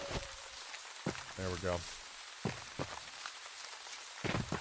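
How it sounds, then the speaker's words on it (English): Steady rain falls in the Valheim game world, a soft continuous patter with a few sharper drop sounds, while someone speaks briefly over it. "It seems to rain a lot here."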